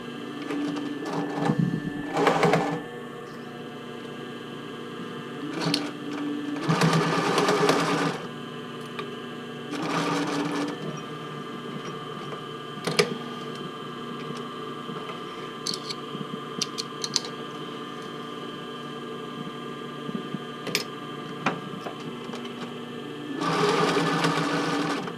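A home sewing machine stitching fabric for a tankini swimsuit, with several loud bursts of rapid mechanical whirring separated by quieter pauses full of small clicks and handling noise, close by and without speech.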